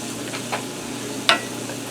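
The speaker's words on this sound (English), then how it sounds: "Give that a stir." Southwestern corn with parsley is stirred in a skillet, with a soft sizzle and two brief scraping strokes, the second sharper and louder, close by.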